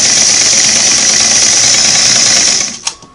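A Singer Model 513 sewing machine with a damaged clamp stop motion flanged bushing whirs steadily and loudly as its hand wheel spins, then winds down with a brief clunk near the end.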